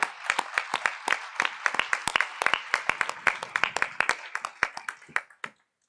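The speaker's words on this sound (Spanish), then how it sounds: "El primer aplauso, miren cómo nos hiere" Scattered hand claps build into a short burst of applause from a small group, then thin out and stop, with no talking over it.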